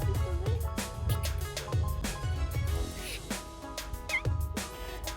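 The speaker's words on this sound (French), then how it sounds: "On a rencontré un chat aussi sur le passage, il était trop mignon" A cat met along a street near a castle in Murcia gives several short meows amid a busy scatter of clicks and knocks, fairly quiet and close.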